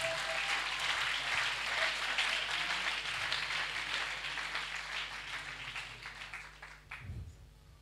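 A church congregation claps and applauds during a worship service, a loud dense burst of clapping that gradually thins and fades near the end.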